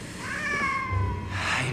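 A cat lets out a drawn-out, wavering meow that rises and then falls over a faint background hum, followed by a softer trailing cry.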